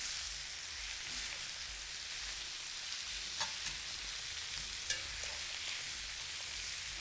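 Fat fries on high heat in a pan, a continuous close sizzle with occasional pops and light stirring scrapes, loud and steady with no talk.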